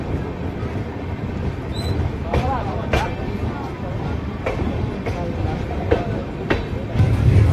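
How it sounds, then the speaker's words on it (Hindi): Rajya Rani SF Express train pulling out of New Barauni Junction, a steady low rumble with sharp wheel clatter and clacks recurring every second or so, heard from on board beneath faint background voices. "3:07 में हमारी ट्रेन निकल चुकी है न्यू बरौनी जंक्शन से"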